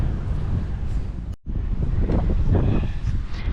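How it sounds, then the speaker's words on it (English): Strong gusty wind buffeting the microphone outdoors near playground swings, a loud continuous roar with one brief dropout, close and rumbling throughout. "that wind's blowing"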